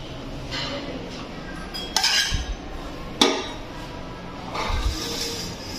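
Dishes, pots and utensils clinking in a home kitchen during washing up, with sharp clanks and clatter near the mic at uneven intervals over a faint background.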